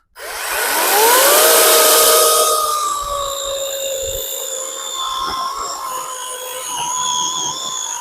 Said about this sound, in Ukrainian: Давайте я вам тут в короткому покажу, як вона пиляє